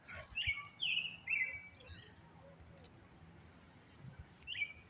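Several birds sing outdoors under a clear sky, with bright chirping phrases near the start and again near the end, moderately close over a low rumble of background noise.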